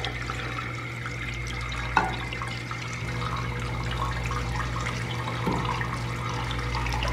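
Water runs steadily through a slow juicer as it is rinsed clean, a soft continuous trickle and gurgle close by, with a couple of faint knocks and no talking.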